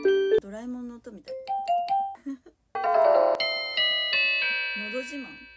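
A voice speaks briefly, then bright bell-like chime notes ring out in a short, sustained melodic run from the Nodo Jiman bell tone on a Kikutani KDP-61P folding keyboard piano.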